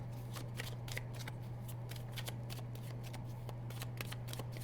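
Tarot cards are shuffled by hand in a run of quick, crisp riffling flutters, close and fairly loud over a steady low electrical hum, with no speech.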